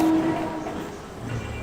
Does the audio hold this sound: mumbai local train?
yes